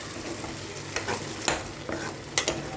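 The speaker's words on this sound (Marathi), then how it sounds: "थोडंसं परतून घ्यावं" Palak paneer green gravy being sautéed in a pan, with a low steady sizzle and a few light stirring scrapes of a spoon against the pan, close and alone with no talk.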